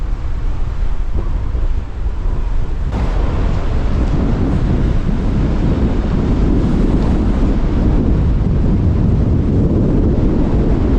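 Strong wind blows across an island's north shore, a loud, constant roar and buffeting rumble against the microphone lasting the whole stretch, with no voices.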